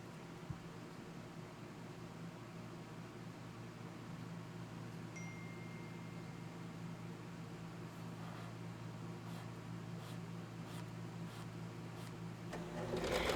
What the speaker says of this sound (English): Using a specially designed buttonhole foot, I was able to make the seams for the buttonholes.